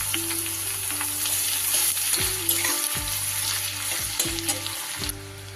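Medium-sized chopped onion fries in hot oil after the tempering spices, a dense, steady sizzle with faint stirring and a few tonal clinks, close and without voices.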